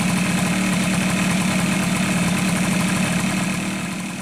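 A Suzuki AX100 motorcycle engine idles steadily at close range, a loud, even, rapid putter that holds the whole time and eases off slightly at the end.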